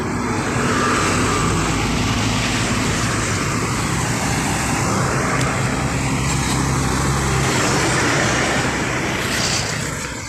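A large Sempati Star intercity bus on an Indonesian highway near Palembang passes with a loud, steady roar of engine and tyres on the road, close and continuous throughout, with no talk.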